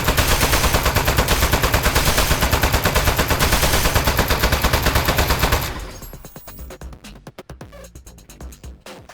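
Rapid automatic gunfire in the video game Aperture Desk Job, a dense loud burst that continues steadily and then breaks into sparser, separate shots.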